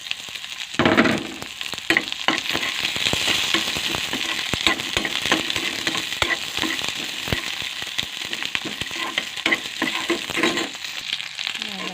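Chopped garlic and onion sauté in a hot pan with oil, giving a dense, steady sizzle full of sharp pops and crackles that flares up loudly near the start and continues close and unbroken.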